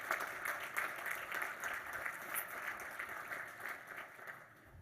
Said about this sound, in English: So how about a round of applause for all of our staff that have done so well.